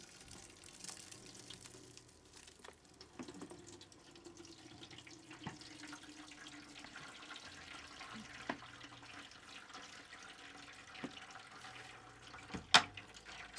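Water pours steadily into a beer-brewing mash for several seconds, a soft continuous splashing flow with a few faint knocks and a sharp clink near the end.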